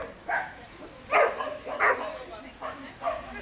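A small rescued dog with leishmaniasis, brought from Spain to a shelter reunion in Germany, gives several short, light yips and barks at irregular intervals amid background chatter.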